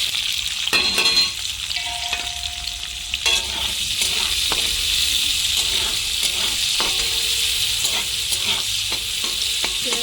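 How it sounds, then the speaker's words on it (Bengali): Sliced onion lightly frying in a little oil in a kadai, a loud steady sizzle with repeated clinks and scrapes of a stirring spoon throughout. "পেঁয়াজটা আমি হালকা করে ভেজে নেব"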